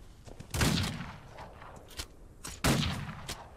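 Gunfire in the Old West video game Outlaws of the Old West, several sharp shots spaced out over a few seconds, loud and close.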